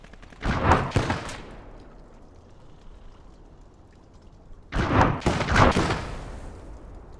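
Two heavy gun blasts, each firing an HE shell in the World War II game Gates of Hell: Ostfront, ring out several seconds apart. Each booms loud and close, then trails into a long rumbling decay.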